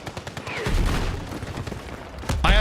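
Loud, dense shotgun fire in an online shooter video game, with sharp overlapping blasts and a heavy, sustained rumble of battle noise close to the player.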